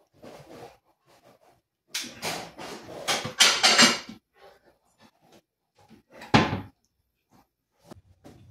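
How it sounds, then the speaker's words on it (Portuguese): A high kitchen cupboard door is opened and dishes are put away, with a series of irregular knocks, clatters and wooden bumps separated by quiet gaps, close and fairly loud. "guardando a louça no armário alto, abrindo a porta com o lado afetado"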